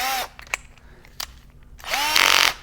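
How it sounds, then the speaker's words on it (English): A power drill spins a cut-down Allen key to drive a threaded insert into wood for a takedown bow, with short bursts of whining motor and a louder final run, plus small clicks between. "I put it in the drill, and then I'll just work it in and out."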